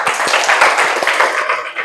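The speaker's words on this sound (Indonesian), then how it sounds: "Ya, tepuk tangan untuk kita semuanya." A school class claps their hands together in a quick burst of close, crisp claps, a short uneven ripple of hand strikes lasting under two seconds.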